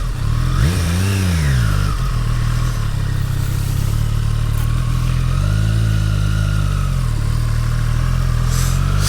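A 2023 Triumph Street Triple 765 RS rides along with its engine rising and falling through a couple of revving swells over a constant loud wind-buffeted drone, close to the rider, with no talk.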